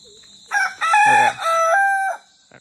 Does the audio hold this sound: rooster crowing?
yes